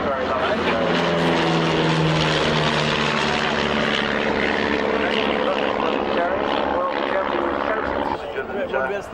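Vintage Miles Messenger and Miles Gemini propeller aircraft pass together at a military airshow, a loud sustained droning engine note rising and easing as they fly by, with a commentator talking over it.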